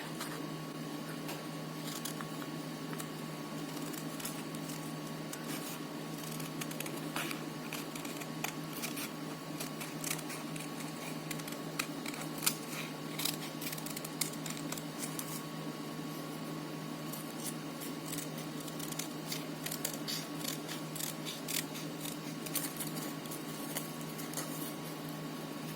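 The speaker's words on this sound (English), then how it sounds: "Now I'll go in and cut out the bat." Scissors cut around a folded paper bat for a Halloween decoration, giving a long run of faint, close, irregular snips and paper rustles over a low steady hum.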